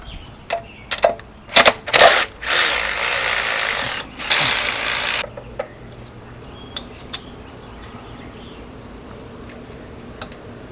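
A wrench working bolts on an engine during an oil-burning rebuild, with a quick run of sharp ratcheting clicks, two longer bursts of rasping ratchet noise, then sparse faint ticks and clinks close by, with no talk.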